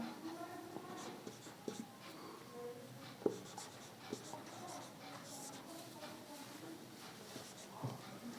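Chalk or marker scratching across a board as a math problem on means is worked out, with soft irregular strokes and taps over a quiet room; no one speaks during it.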